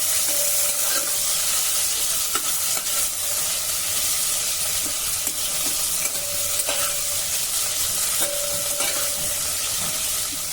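Sliced onions sautéing in a pan with a steady, loud close-up sizzle and hiss, broken by occasional light scrapes and taps of a stirring spoon, with no voices.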